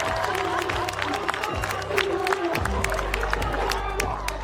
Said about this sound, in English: Getting the love from the crowd